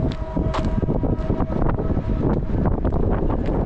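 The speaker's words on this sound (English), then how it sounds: "It is kind of windy." Wind roars steadily and loud on the beach at Belmar, New Jersey, ahead of a thunderstorm, buffeting the microphone with rumbling gusts throughout, and no voices are heard.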